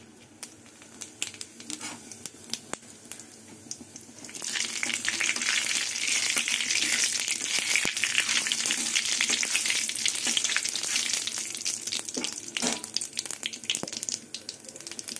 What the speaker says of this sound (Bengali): এই তেলে গোটা জিরে, শুকনো লঙ্কা আর তেজপাতা ফোড়ন দেবো